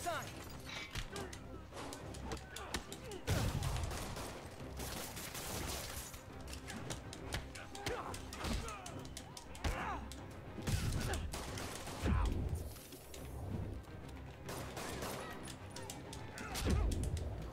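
Gunfire from a Spider-Man video game, with repeated bursts and scattered shots plus mechanical clatter and crashes across a busy, continuous stretch.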